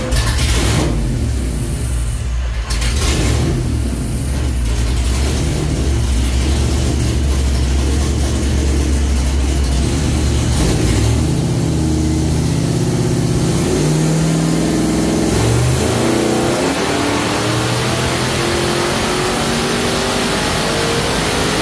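A supercharged V8 engine, a stock 302 block with a Vortech supercharger, roars loudly and continuously under heavy load on a dyno, its pitch climbing steadily toward the end as it revs higher.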